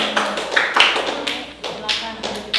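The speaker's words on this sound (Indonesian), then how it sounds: "Tepuk tangan untuk kelompok 5." A class of students applauds a group of classmates with bursts of clapping and tapping, close and fairly loud, mixed with voices talking in between.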